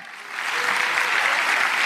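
Applause from an audience at a Diamond Club event swells quickly and holds as steady, dense clapping close by.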